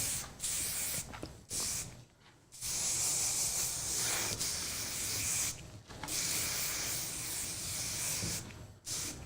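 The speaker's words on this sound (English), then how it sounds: "I'm gonna spray this through the hair." A can of Worked Up flexible hold styling hairspray is sprayed through hair in several long, close hissing bursts separated by short pauses.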